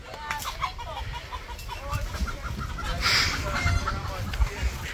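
Rooster clucking in an outdoor setting during a rooster shoot, with repeated short calls over steady background noise and a brief louder burst midway.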